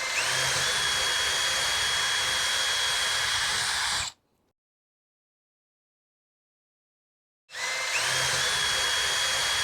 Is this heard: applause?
no